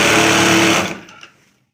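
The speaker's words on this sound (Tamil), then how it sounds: "இப்படி கீறிக்கிட்டு தைக்கலாம்" A sewing machine stitches a cross-cut blouse in a brief, loud, close whirring run that stops abruptly and trails off into quiet.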